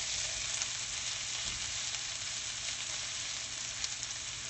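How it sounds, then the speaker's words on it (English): Cabbage fries in a hot frying pan while being stirred, a steady close sizzle that holds even and continuous throughout. "So we just got to keep stirring it, let it get cooked some."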